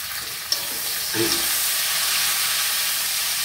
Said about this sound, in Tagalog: ginisa ko na yung sibuyas at saka bawang. Lagyan na rin natin ng kamatis.